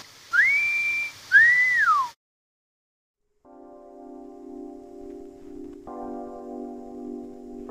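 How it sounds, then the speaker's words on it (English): Two rising-and-falling whistled notes sound close and clear, each about a second long, followed by silence and then a sustained steady tone that shifts pitch once. "You know how to whistle, don't you"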